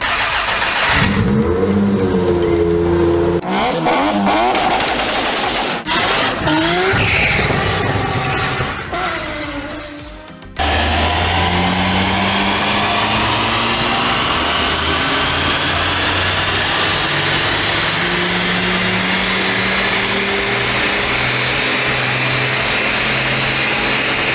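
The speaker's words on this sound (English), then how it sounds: "that's the first dyno run done on the Polo GTI" A VW Polo GTI with a Stage 1 tune and ram-air induction revs hard on a dyno, the engine climbing loudly through the gears, a brief lift, then one long, steady, rising pull close by.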